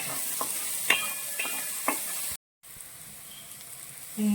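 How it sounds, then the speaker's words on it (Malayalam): Mashed banana is stirred and cooked in a pan, with a soft, close sizzle and a few light scraping taps from the stirring, broken by a brief silence. "പഴം നന്നായിട്ട് ഉടച്ചെടുക്കുന്നവരെ നമ്മളിത് വേവിക്കും"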